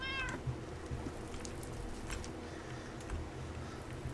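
A cat in the Minecraft video game gives a short, clear meow at the start, followed by faint game ambience and a few soft ticks and taps.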